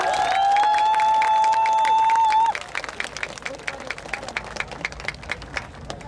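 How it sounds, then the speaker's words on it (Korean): Audience applause at an outdoor song festival in Jongno, steady dense clapping with crowd murmur, following a sustained tone that cuts off after a couple of seconds. "큰 박수 좀 쳐주세요"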